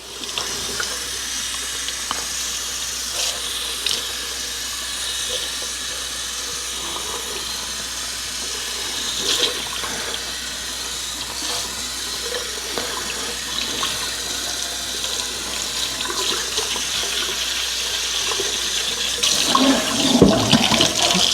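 Hot water rushes steadily from a tap into a sink, filling it with dish soap to wash a UNI air filter from a Kawasaki KRX; the flow is a continuous close splashing hiss with no talk.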